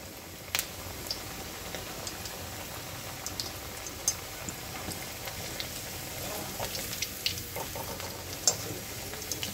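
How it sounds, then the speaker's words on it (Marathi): Barule frying in oil, a low continuous bubbling sizzle with faint scattered pops and a few light clicks, steady and moderately quiet throughout. "असे याला छान तळून घ्यायचे आहे"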